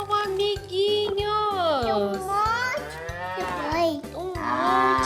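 Cattle from a toy farm animal set give a run of drawn-out, sliding moos, loud and close. A steady, rhythmic musical beat plays underneath.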